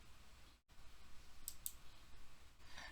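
A computer mouse gives two quick, crisp clicks close together while setting up failover clustering in a Windows server wizard, heard alone over a faint room hum.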